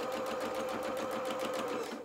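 A domestic sewing machine runs a steady, fast line of stitches along an ironed fabric edge, giving an even mechanical whir with a rapid pulse, close and alone without talk.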